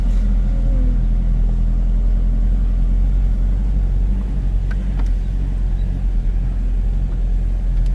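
Steady low engine rumble from a 2021 Ford Ranger 2.2 manual 4x4 pickup on the move, heard from inside the cab as a continuous loud drone with no talking.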